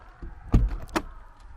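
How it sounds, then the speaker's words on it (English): A camper trailer door swinging open, a short close clunk of the latch followed by a second knock as the door moves. "so swinging open the door"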